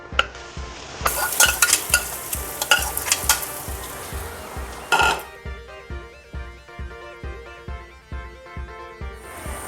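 Grated coconut sizzles on the pan with fried onions and turmeric for a banana flower thoran. A loud fry sputters at first and then settles to a quieter hiss under regular scraping strokes of a spoon stirring the mix.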